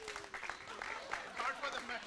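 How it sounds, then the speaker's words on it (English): A group claps in steady applause at a women's festival, moderately distant, with some voices mixed in underneath. "One big round of applause for all the IFA men first."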